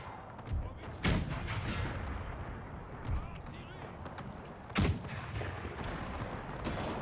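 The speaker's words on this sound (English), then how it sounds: "the 12 pounders. Firing through all of this" 12-pounder cannons firing in the Napoleon Era Mod battle game: heavy booming blasts at about one and five seconds, with softer distant thumps between, over steady battle din and continuous talking.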